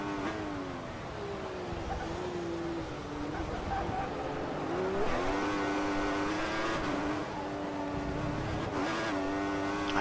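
Mercedes race car in a racing video game passing by, a steady engine whine rising and shifting in pitch against a continuous backdrop of other engines, with commentary voices talking over it throughout.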